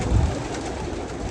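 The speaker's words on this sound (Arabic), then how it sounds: "الحمام اهو، ادينا ماشيين والحمام ورانا اهو" Pigeons on a large pigeon farm in Egypt give soft, low cooing close by, mixed into a steady bed of flock noise and rustling.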